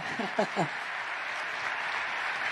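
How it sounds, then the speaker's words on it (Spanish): Studio audience applause on a television talk show: a steady, fairly soft wash of clapping that follows a few brief spoken syllables at the start and fills the rest of the moment. "Sí, un aplauso, por favor."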